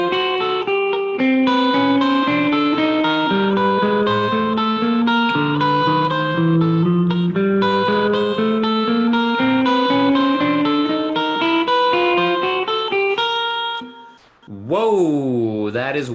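An electric guitar run through effects plays a pentatonic sustain exercise, with long, loud, ringing notes moving stepwise up and down, then a brief pause before a warbling, swooping bend.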